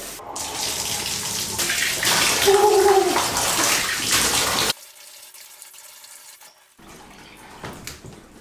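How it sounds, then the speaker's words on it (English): Running water splashes from a bath tap as a freshly done tattoo is washed over the side of the tub, a loud continuous gush that cuts off suddenly, followed by quiet drips and faint handling sounds. "you want to take this cling film off and give it a good wash in the bath, in the shower"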